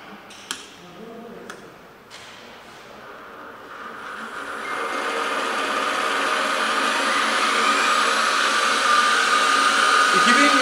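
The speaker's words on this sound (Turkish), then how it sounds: "Çalıştırıyoruz ve ondan sonra devre arttıracağız." A Foreman BF 20L benchtop mini milling machine starts up at its lowest speed and spins up, its steady motor whine growing louder and holding as a continuous hum, with a few clicks at the start.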